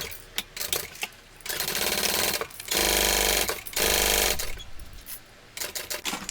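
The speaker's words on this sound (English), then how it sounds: "Top stitch. So I'm going to start on the bottom edge. I'm going to baste that together." A sewing machine stitches a tote bag in bursts of rapid, even needle chatter, with pauses between runs as basting and top stitching proceed, close and clear with no talk.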